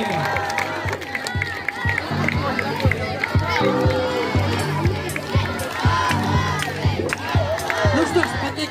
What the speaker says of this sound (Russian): Ну что ж, под такие же бурные аплодисменты, четвертый дом.